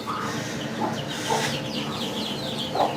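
A Light Brahma hen, bothered while laying an egg in a coop, gives a few soft, irregular clucks close by, with other birds faintly audible behind her.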